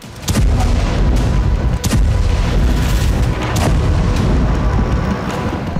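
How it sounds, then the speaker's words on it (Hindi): Air strike explosions in the Dahieh district of Beirut, a loud sustained roar of heavy booms with several sharper blasts rising out of it, continuous and overwhelming with no talk. "इसराइल एयरफोर्स ने बेरूत के दाहिया में बड़ी एयर स्ट्राइक की, एक के बाद एक 15 स्ट्राइक से पूरा इलाका दहल उठा।"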